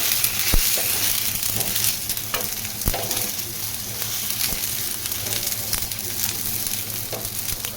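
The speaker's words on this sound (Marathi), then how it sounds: "तर बघा टमाटर मस्त भाजून चाललेत आता आपले." Tomatoes roasting in a pan for tomato chutney, a steady close sizzle and crackle with occasional scraping stirs and soft clunks, continuous throughout with no talk.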